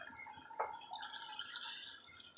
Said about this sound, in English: I'm going to add just a little water.